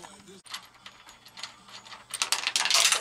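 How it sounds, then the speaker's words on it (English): A half-inch nut from bed rack cleat hardware on a Diamondback tonneau cover drops with a single sharp metallic click up close, then brief clattering and handling noises follow. "Uh-oh. Dropped the nut."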